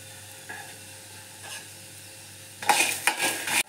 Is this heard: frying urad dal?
yes